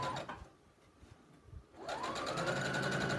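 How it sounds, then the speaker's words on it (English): A sewing machine stitches fabric for a beach tote, a quiet start building into a steady, close whirring run that holds through the second half. "Secure your stitch."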